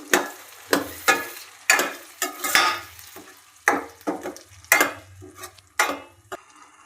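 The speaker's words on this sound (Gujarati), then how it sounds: "બે ડુંગળીની ગ્રેવી કરી હતી નાખીને મિક્સ કરી લેશું બધું" Bursts of scraping as onion and tomato gravy is stirred into stuffed okra curry in a pan, the utensil scraping the pan in a steady uneven rhythm over a low sizzle.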